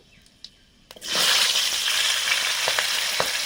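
Five-spice tempering hits hot oil for a fish curry, a couple of faint clicks giving way to a sudden loud, dense sizzle that stays strong and close, with small crackles and pops throughout.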